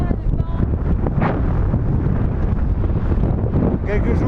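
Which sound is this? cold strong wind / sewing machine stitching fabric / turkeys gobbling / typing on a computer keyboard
cold strong wind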